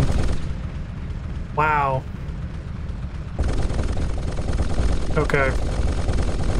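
Rapid-fire kinetic cannon turrets blasting from a ship's underside in the space strategy game Homeworld, a dense continuous roar of gunfire with a brief spoken exclamation over it.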